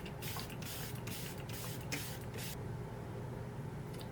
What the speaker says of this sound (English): Now we're going to go in with setting spray, and I do have a new setting spray.